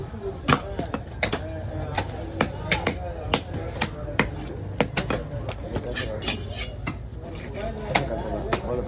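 A knife chops red snapper at a fish cutting stall in Kasimadu, landing a steady series of sharp, hard knocks about every half second, close and loud, with voices faintly in the background.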